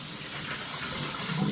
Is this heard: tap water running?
yes